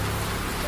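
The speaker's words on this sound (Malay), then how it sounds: "mendengar bunyi hujan renyai-renyai di luar" Light drizzling rain falls outside at night, a soft, steady hiss of fine drops filling the brief moment without any break.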